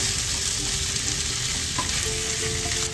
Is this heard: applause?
no